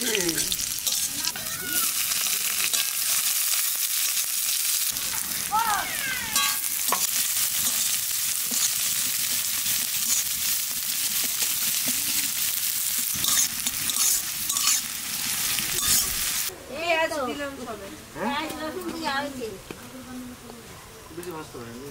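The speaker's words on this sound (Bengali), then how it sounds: "তেলের ওপর প্রথমে দিয়ে দেবো রসুন কুচি" Chopped garlic hits hot oil for a squid dish, producing a loud, dense sizzle that runs throughout, with stirring noises and a voice speaking briefly over it and again near the end as the frying softens.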